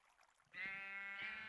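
A Minecraft sheep gives a faint, short bleat with a quivering tone that repeats once, heard alone over quiet game ambience.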